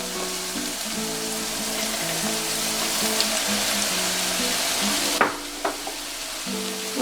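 One and a half cups of rice poured into a sizzling pan for Cajun dirty rice, a loud continuous frying hiss followed by a sudden rattle and scraping stirs.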